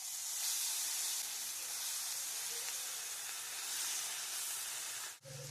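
Ground onion paste hits hot oil with fried garlic while cooking prawn dopeyaja, giving a steady, fairly loud broadband sizzle that continues for several seconds before a brief dip near the end, with no talking.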